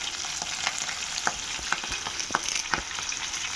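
Curry leaves hit hot oil beside green chillies for a beans fry, giving a loud, continuous spitting sizzle punctuated by sharp crackling pops every half second or so.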